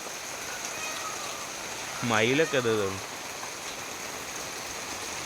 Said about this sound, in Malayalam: നല്ല രീതിയിൽ ഇപ്പോഴും മഴ ഇങ്ങനെ പെയ്തുകൊണ്ടേ ഇരിക്കാൻ കേട്ടോ